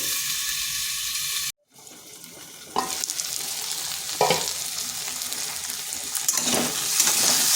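Flat beans sizzle in hot oil in a pan, a steady frying hiss after a brief cut, with occasional stirring scrapes and louder sputters building toward the end.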